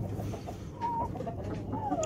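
Chickens clucking nearby in a hen coop, with low murmuring clucks and a couple of brief higher calls rising over the flock.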